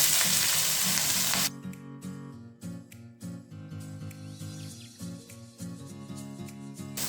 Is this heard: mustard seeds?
yes